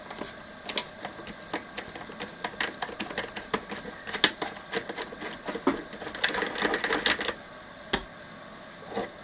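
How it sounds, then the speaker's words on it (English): A socket wrench with an 8mm socket undoing nuts on a Tom Evans Mastergroove SR mkI preamp, giving rapid ratcheting clicks in bursts with a denser run of clicks near the end, close and fairly quiet. "Just going to go with the 8mm socket."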